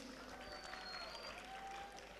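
An audience at an Atlas Group of Institutions event in Ajman applauds its guests. The clapping is faint and distant, an even patter that holds steady the whole time.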